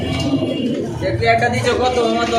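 Pakistani and racer pigeons cooing in low, throaty warbles at a pigeon market, close and fairly loud, with people talking alongside.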